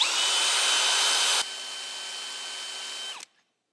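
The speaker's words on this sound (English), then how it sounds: "we're gonna drill a hole in this cast iron for a bolt to go into" Cordless drill boring a 3/8-16 tap-size hole into cast iron on a Thompson grinder, a steady high whine with a clear tone that drops in level partway through as the bit bites, then winds down and stops abruptly near the end.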